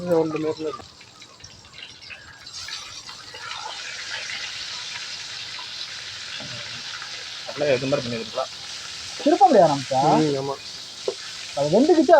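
Chicken fries in a pan with a continuous hissing sizzle that runs steadily throughout, while a voice speaks in short bursts over it.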